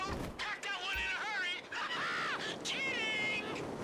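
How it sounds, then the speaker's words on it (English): Several harsh crow caws ring out in Grand Theft Auto V, loud and close, repeating in a ragged sequence with faint background noise. "Did you hear the crows?"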